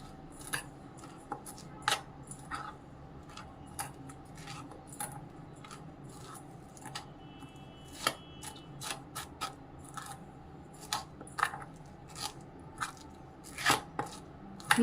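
Pistachio filling with condensed milk mixed in a bowl, a series of quiet, irregular clicks and scrapes of a spoon against the bowl, close and faint, with no talk.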